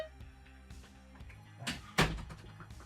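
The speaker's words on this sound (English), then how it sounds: "I gotta close my door real quick." A bedroom door swings shut nearby, some soft shuffling and handling, then a firm thud as it latches, with a quieter knock just before it, against a low steady room hum.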